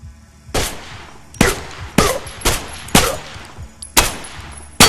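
Pistol shots fired one after another in the VR game STRIDE: six loud, sharp cracks spaced roughly a second apart, each ending in a short tail, with no voices.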